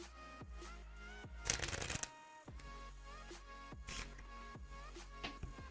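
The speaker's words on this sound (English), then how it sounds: "So I've shuffled these cards around," Playing cards shuffled by hand in a series of quick riffling bursts, with one longer, louder riffle in the middle and softer flicks around it, close and clear with no talking.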